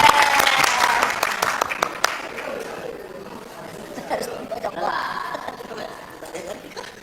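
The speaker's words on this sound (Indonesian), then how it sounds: "Kasih tepuk tangan kepada Bapak Sumpeno." Applause fills a parliamentary commission hearing room during a leadership vote, strong at first and then thinning out into scattered claps, murmured chatter and a few chuckles.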